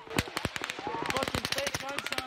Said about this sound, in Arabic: يسمع صوت إطلاق نار